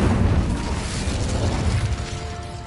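A fire spell cast in Hogwarts Legacy makes a loud, steady burst of roaring flame and rumble that holds across the whole stretch and thins out slightly toward the end.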